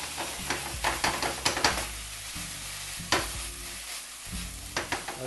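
Squash simmers and softens in a pan while a spoon stirs it, a soft bubbling sizzle broken by irregular scraping knocks close by, with no voices.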